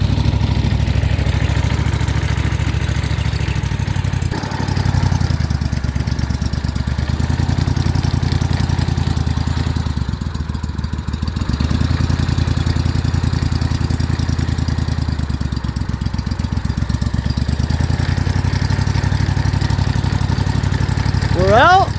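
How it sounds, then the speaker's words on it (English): A mud boat engine runs loud and steady while towing a 43-foot houseboat out of a Louisiana marsh, a continuous rough mid-pitched drone that swells and dips slightly throughout. "Pull the houseboat out with the mud boat."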